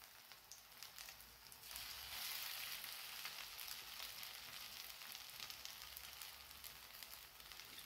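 Moong dal vada frying in oil over a low gas flame, a soft continuous sizzle with fine crackling pops, quiet and close, swelling slightly after the first couple of seconds.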